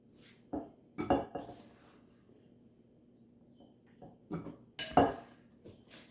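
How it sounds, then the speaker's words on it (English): Slotted spoon clinking against a pan while lifting strawberry rhubarb fruit into a pie dish, a few soft, close metallic taps and scrapes in two brief clusters separated by quiet. "we're going to use our slotted spoon and transfer it into this pie dish"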